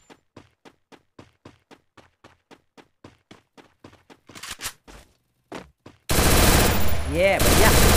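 Rapid bursts of gunfire in a battle royale shooter, a long run of evenly spaced single shots followed by a denser flurry and then a loud sustained roar of nearby action; no talking.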